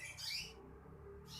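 Birds squawk and chirp at a busy bird market, a couple of sharp calls close together followed by a brief gap, moderately faint against the surrounding ambience.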